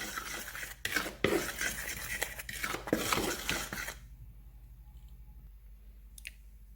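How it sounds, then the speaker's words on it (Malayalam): Two cups of wheat flour and a pinch of salt stirred in a bowl for Turkish flatbread, a close clatter of a spoon scraping and knocking against the bowl for a few seconds, then near quiet. "അതിനായിട്ട് ഞാനിവിടെ ഈ 2 കപ്പ് വീറ്റ് ഫ്ലോറിലേക്ക് സ്വല്പം ഉപ്പിട്ട് കൊടുക്കുകയാണ്. എന്നിട്ടിത് നമുക്കൊന്ന് ഇളക്കി കൊടുക്കാം."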